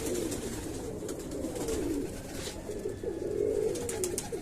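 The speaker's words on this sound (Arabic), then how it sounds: "كلش حلو ما شاء الله، انها طيور حلوه." Pigeons coo on a rooftop, repeated soft rolling calls overlapping nearby at moderate volume over a faint background hiss, with no speech.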